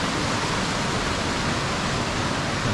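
Water rushing through a canyon stream with waterfalls in Val Vertova, near Bergamo, Italy, heard as a loud, steady broadband roar, close and unbroken, with no voices over it.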